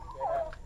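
Chickens make a couple of short, nasal clucks, faint and close, over a low background hum.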